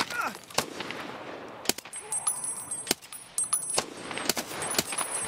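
Gunfire in the video game Escape from Tarkov: about half a dozen sharp, loud shots at irregular intervals, some followed by a ringing metallic tone, over a low ambient background.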